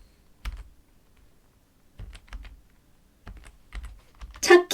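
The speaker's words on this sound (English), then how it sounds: "I'm just going to type any old thing in here" Sparse keystrokes on a computer keyboard come in small irregular clusters of clicks, close and fairly quiet against near silence, with a brief louder clatter at the end.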